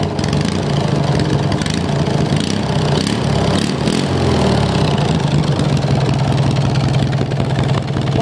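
A race lawn mower engine runs steadily after restarting, a loud, close, continuous rumbling idle with a slightly uneven knocking pulse throughout.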